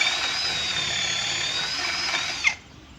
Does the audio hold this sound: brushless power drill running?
yes